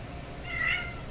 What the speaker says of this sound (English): He knows what meows get me, get my heart.